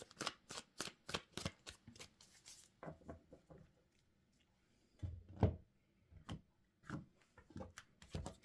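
A Gilded Tarot deck being shuffled by hand: bursts of quick riffling card flutters and soft rubbing, close and quiet, with pauses between bursts and no speech.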